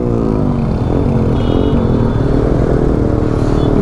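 Motorbikes being readied for a trail ride, with a steady, loud engine drone and rising revs running throughout, close to the recorder.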